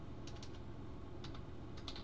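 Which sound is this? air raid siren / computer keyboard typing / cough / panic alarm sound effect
computer keyboard typing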